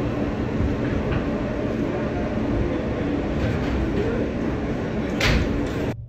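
A subway train rolls along in a steady, loud rumble with rhythmic rail clatter and a brief squeal near the end, heard from inside the car with faint voices beneath.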